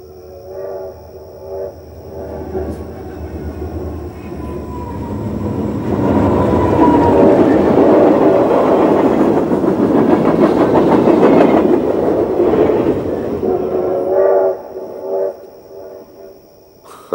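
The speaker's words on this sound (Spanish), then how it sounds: "Ese es el tren de Detroit. Siempre puntual." The train from Detroit passes close by, building from a distant rumble to a loud, steady roar of rolling wheels and clatter, then fading, with a sustained horn tone at the start and end.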